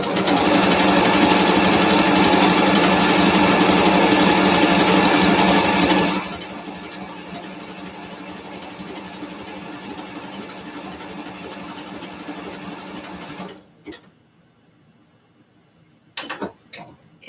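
An electric sewing machine stitching old T-shirt fabric whirs loudly and steadily for about six seconds, then keeps running at a softer hum before stopping, leaving near silence broken by a few faint clicks.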